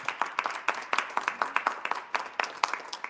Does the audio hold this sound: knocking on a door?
no